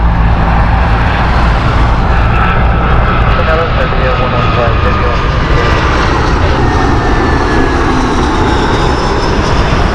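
Aircraft engine noise from an inbound Copenhagen flight at Heathrow Airport, a steady, loud, broadband roar that fills the whole span, with a voice talking over it.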